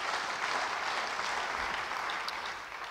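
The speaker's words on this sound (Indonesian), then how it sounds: "Beri tepuk tangan bagi dia." Church congregation applauding during a sermon, a steady wash of many hands clapping at moderate distance, continuous and even for a few seconds without speech.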